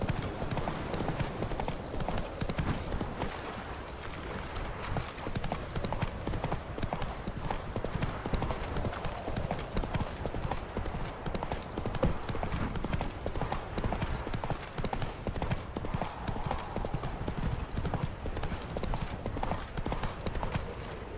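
Roach the horse galloping in The Witcher 3, rapid rhythmic clip-clop of hooves pounding steadily the whole way through, close and moderately loud over an outdoor game ambience.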